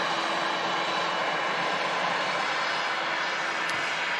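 A NetJets Cessna business jet departing Manchester Airport for Dublin gives a steady, distant engine roar with a broad hissing rush and a faint whine, continuous and moderately quiet throughout.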